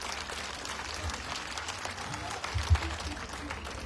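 Short burst of audience clapping at a Republican student group's Constitution honour ceremony in Mumbai, thin and scattered rather than a full ovation, with a murmur of voices and a low thump near the end.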